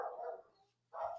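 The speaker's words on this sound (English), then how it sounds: "absolutely no clue what they're barking at." Dogs barking in a home, two short loud barks separated by a brief pause, heard close with no talking over them.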